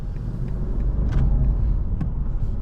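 A 2024 BMW M850i xDrive backing up and pulling away, its engine a low steady rumble heard from inside the cabin, with faint clicks over the top and no talking.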